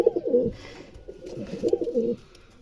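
Red dwarf pouter pigeons coo in soft, throaty bursts, two rolling calls separated by a short pause, close by and fairly quiet, with no talking.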